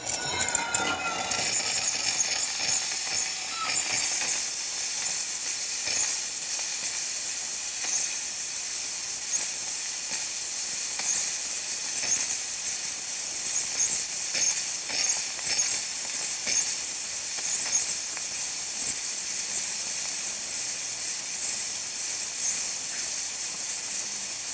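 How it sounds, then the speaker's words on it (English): Steam wand of a Rancilio Silvia espresso machine fitted with a PID, releasing strong steam: a brief sputter at the start, then a loud, continuous, steady high hiss. "A nice strong steam."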